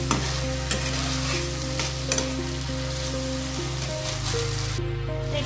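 Spices with turmeric stir-frying in a pan: a steady crackling sizzle with regular scrapes and clicks of stirring, heard under soft background music.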